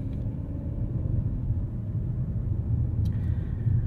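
Steady low engine drone from a 2022 Mercedes-Benz C300 4MATIC sedan's mild-hybrid four-cylinder, heard from inside the cabin as a constant rumble with no pauses.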